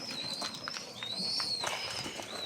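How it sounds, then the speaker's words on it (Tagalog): Pigeons in a loft make soft, intermittent coos and rustles at close range over a low background hiss, with no talk. "Tapos, yung mga matitira dito na ibon natin at hindi natin ibon, baka ipamigay ko na lang sa Carla Bill."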